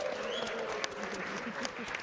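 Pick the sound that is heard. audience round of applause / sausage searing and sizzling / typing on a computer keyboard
audience round of applause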